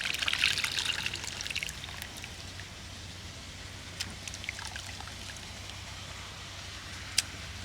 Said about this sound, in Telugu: చింతపండు పులుసు పోసుకోండి చిక్కగా.